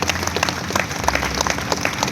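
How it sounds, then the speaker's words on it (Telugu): An audience claps together at a church gathering, a dense, steady burst of applause that lasts throughout. "గట్టిగా చప్పట్లు పట్టండి ఒకసారి"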